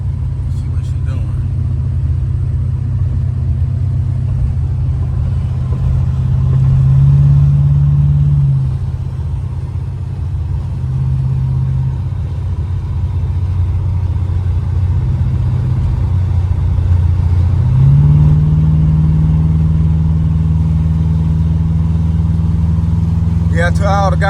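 A 1986 Buick Regal G-body with a big-block engine and Holley EFI drones loudly and steadily from inside the cabin, with deep rumbling and a couple of rises in engine pitch as it drives.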